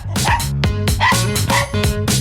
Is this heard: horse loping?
no